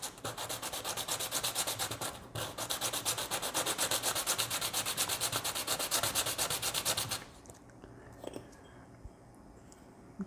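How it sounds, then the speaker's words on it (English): Fine emery cloth rubs painted aluminum discs in rapid back-and-forth strokes, a close, rhythmic scratchy rasp that runs steadily for about seven seconds, then stops, leaving quiet handling noises. "I'm going to start sanding away the top layer of paint that we just put on."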